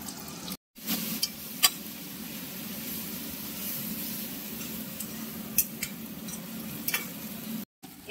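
Spice masala cooking in ghee for chicken kosha, a soft steady sizzle with light stirring scrapes and a few brief clinks, moderately quiet throughout.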